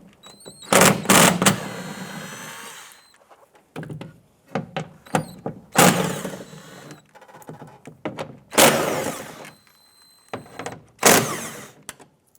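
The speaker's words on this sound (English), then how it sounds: "Using a 10 millimeter socket, let's remove the perimeter bolts here." A 10 mm socket wrench ratchets and knocks in several separate bursts while removing the perimeter bolts of a 2008-2013 Nissan Rogue front door. The clicks and clanks are close and moderately loud, with quiet gaps between them.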